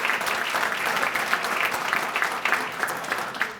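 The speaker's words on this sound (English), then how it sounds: "a round of applause to you." Steady applause from a large crowd at a chamber of commerce anniversary dinner, a dense continuous patter of many hands clapping at an even level throughout.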